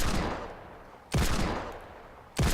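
Heavy gunshots from a video game boom one at a time, about three in all, each sharp blast followed by a long, fading echo.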